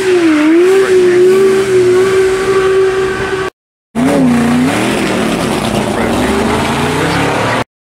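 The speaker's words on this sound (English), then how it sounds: "we have the first of the Zagato bodied Aston Martins," A Zagato-bodied Aston Martin DB4 GT at the Goodwood Festival of Speed revs hard as it drives past, its engine note rising and falling loudly, briefly cutting out before returning.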